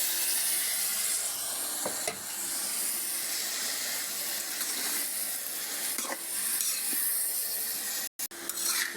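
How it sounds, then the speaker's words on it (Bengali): Chopped carrots and garlic sizzle steadily in a pan after a splash of water, a close, continuous hissing fry with a few soft stirring knocks and a brief drop near the end. "হালকা একটু পানি দিয়ে দিলাম"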